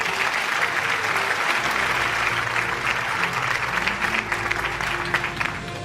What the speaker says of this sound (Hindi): नियाजी साहब के लिए भरपूर तालियां होनी चाहिए जी।